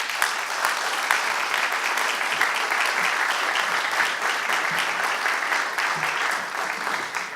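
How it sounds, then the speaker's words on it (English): A crowd gives sustained, even applause for Kettering Fairmont inductees at a school athletic Hall of Fame induction ceremony. Many hands clap continuously from start to finish, without any spoken words over it. "Let's give them a round of applause."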